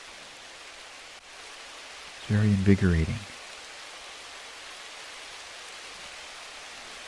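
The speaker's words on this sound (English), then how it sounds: "But it's a warm rain. It's almost like a shower." Steady warm, heavy rain pours as a dense, even hiss throughout, a soothing meditation soundscape, with a brief spoken phrase rising over it near the middle.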